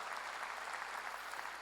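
Congregation at a church revival meeting applauding together, a steady dense wash of clapping from a large crowd held at an even level throughout, with no voices rising above it.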